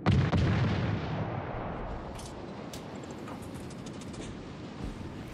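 Heavy naval guns boom in a warship video game, a loud opening blast that rolls into a long rumbling decay and distant reverberation with faint crackles.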